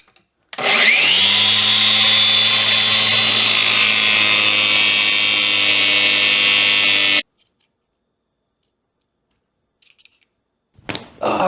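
Metal being ground down on a grinder to fit inside the adjusting nut of a Datsun 1200 caster arm. It gives one loud, close, continuous whine that spins up, holds steady for about six seconds, then cuts to silence.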